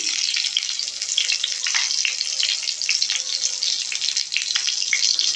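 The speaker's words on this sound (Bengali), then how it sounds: "আর এদিকে করলার জন্য আমি এক চামচ সর্ষের তেল দিয়ে দিলাম আর জিরে দিয়ে দিচ্ছি" Cumin seeds sizzle in hot mustard oil in a pan, oil ready for bitter gourd, a steady bright crackling hiss with scattered pops running throughout at close range, no voices.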